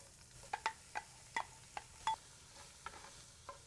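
Chopped sweet yellow onions stirred in a pot over medium heat for Texas chili, with a run of soft, irregular spoon scrapes and clicks over a faint sizzle, quiet and close.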